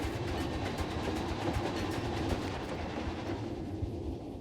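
A train ride in the video game Planet Coaster 2 gives a steady, moderately loud rumble with faint rhythmic clickety-clack, continuous throughout with no voices.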